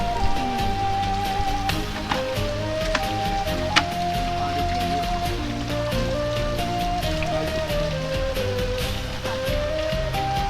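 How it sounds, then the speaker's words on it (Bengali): Rainwater runs down a hillside on the trail toward Palongkhiang waterfall in the Bangladesh hills, a continuous dense wash of rain and trickling water with occasional drop taps and a faint tonal hum beneath. "এই পানিটা নামতেছে এদিক দিয়া পুরো উপর ধরে আস্তে আস্তে করে"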